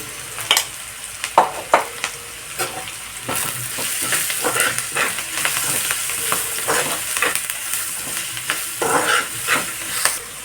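Grated carrot curry with turmeric is stirred in a frying pan, a spoon scraping and clinking in irregular strokes over a soft sizzle, close and fairly loud.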